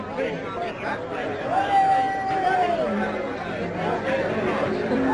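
Party workers at the 1972 Australian federal election victory night cheering and chattering in a packed, crushing crowd, a dense steady babble of voices with occasional shouts and a whistle rising through it.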